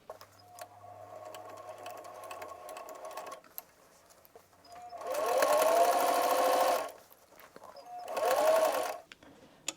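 Sewing machine stitching a stretched cuff onto a pair of kids' pants, two close bursts of rapid mechanical whirring separated by quiet pauses with faint handling sounds.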